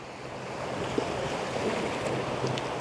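Surf washes steadily onto the shore at Cozy Beach, a continuous wash of breaking water mixed with wind rumble and no voices.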